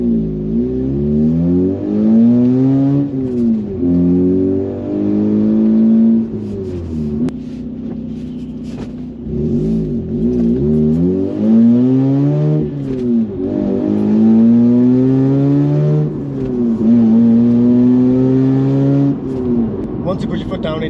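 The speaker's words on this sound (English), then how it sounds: "it's very easy to hear the engine" A Mazda RX-8 (SE3P) manual sports car engine revs up and down in repeated rising and falling sweeps, heard close from inside the cabin, with a person talking over it throughout.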